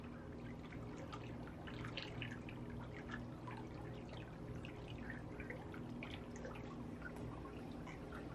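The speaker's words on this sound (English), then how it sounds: "let the soothing sound of the water pump lull me into a nice reading moment here" A water pump runs steadily with continuous trickling and splashing water, a soft, even burble with small droplet patters and no talking.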